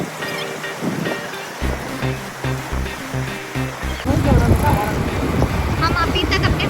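Sea waves surge and wash at Juhu Beach in Mumbai, the surf growing louder and broader in the second half, with wind buffeting the microphone and people talking over the water throughout.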